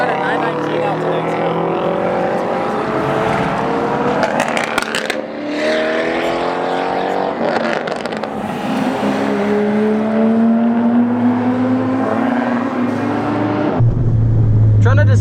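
A Ford Focus ST is driven on a race track on a track day, its engine note rising and falling through the gears with shifts. A voice talks over the constant interior engine noise.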